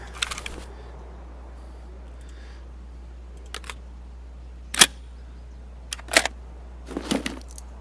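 Weapon reloading in Escape From Tarkov, a few sharp mechanical clicks and clacks spaced apart, with a brief cluster of handling noises at the end, close and crisp against near silence.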